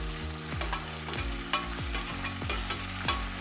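Chopped tomatoes sauté in a pan for kuzhambu, giving a soft continuous sizzle broken by repeated scraping stirs of a spatula at a steady rhythm, close and fairly quiet, with no talking.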